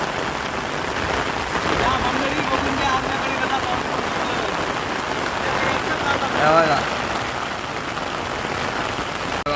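Steady outdoor rain patters hard and continuously during a Bail Pola festival in Khandesh, Maharashtra, around bulls sheltering under a cart, with a person speaking briefly over the downpour.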